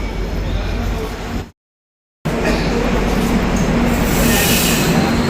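Guwahati–Sairang Express standing at a station platform, a steady near rumble of the stationary train and platform bustle, broken by a short silent gap, with faint voices in the background.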